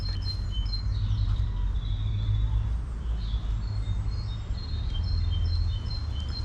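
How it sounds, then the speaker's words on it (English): Several birds chirp and sing in short high calls over a steady low rumble of background noise, fairly faint and scattered throughout. "listen to the birds sing."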